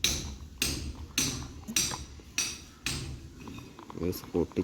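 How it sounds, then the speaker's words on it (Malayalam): Trees are chopped in the Minecraft video game, giving a run of regular, evenly spaced sharp knocking hits, close and distinct, with a few quicker taps at the end and no talk over them. "ബോട്ട് ഉണ്ടാക്കാൻ വേണ്ടി കുറേ മരങ്ങൾ പൊട്ടിക്കണം"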